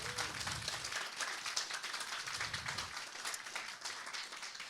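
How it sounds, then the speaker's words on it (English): Conference audience applauding panellists at a restoration-finance event, a dense, steady patter of many hands clapping, moderately distant and continuous across the whole stretch. "can I please have a round of applause for our panellists"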